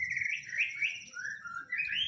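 A magpie-robin (murai) sings a continuous, loud, sweet run of whistled warbling notes with sliding, rising and falling phrases, close, over a faint low rumble and no talking.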